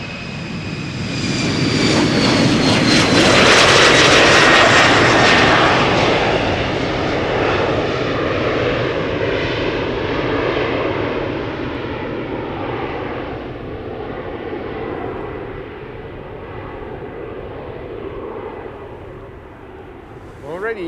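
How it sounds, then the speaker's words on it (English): An Embraer 190 jet departs Schiphol Airport for Aberdeen, its engines a loud, broad roar that swells over the first few seconds and then fades slowly into the distance over twenty seconds. "Embraer 190 to Aberdeen now."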